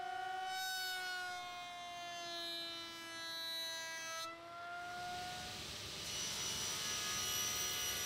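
A router table motor whines with steady high tones that shift and glide, then changes to a loud, rushing cutting roar as scrap wood lag blocks are fed through the bit to clean up a face.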